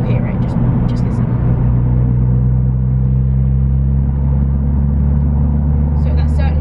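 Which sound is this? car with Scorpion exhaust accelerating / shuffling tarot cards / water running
car with Scorpion exhaust accelerating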